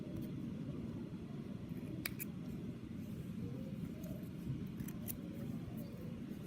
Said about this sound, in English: Make sure you trim your threads.